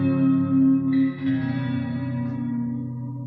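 Sustained electric guitar chord washed in heavy reverb, ringing and slowly decaying with a smeared, echoing tail; no voices.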